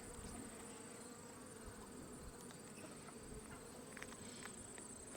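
A soft but constant buzzing of honeybees fills the air near an open hive as frames are moved, with faint scrapes and taps and no talking.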